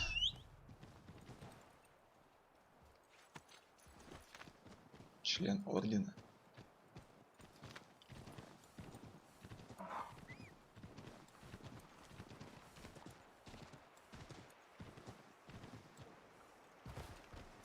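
A horse's hooves clip-clop steadily at a walk through a rural outdoor setting, fairly faint and continuous, with someone talking over them.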